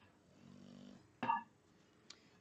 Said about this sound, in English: you hear snoring in the background